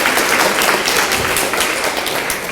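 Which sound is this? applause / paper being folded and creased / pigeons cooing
applause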